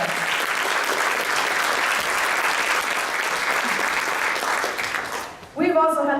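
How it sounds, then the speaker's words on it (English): A community theater audience applauds the show's volunteers, a broad, sustained wash of clapping that fades near the end before a voice begins speaking. "So if you just give them a round of applause,"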